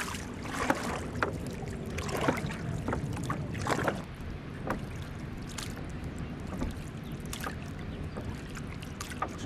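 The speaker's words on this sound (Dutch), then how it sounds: "dan gaan we er een eindje omheen roeien" Oars splashing and knocking as a rowboat is rowed slowly around a shipwreck in a bay, with repeated dips and drips of water and a steady wash of low noise beneath, no voices.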